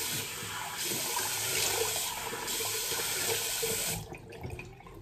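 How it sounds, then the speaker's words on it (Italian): Cold tap water runs into a sink as someone rinses their face after shaving, a close, steady gushing splash that cuts off near the end, leaving faint drips. "Diamoci una sciacquata con l'acqua fredda."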